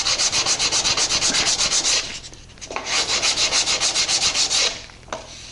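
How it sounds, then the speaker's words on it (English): Stiff sanding block with 100 grit sandpaper smoothing wooden splines, a close, loud rhythmic rasping of quick back-and-forth strokes, pausing briefly midway before another run of strokes. "Using this stiff block with sharp 100 grit sandpaper, I use it almost like a file to smooth this off."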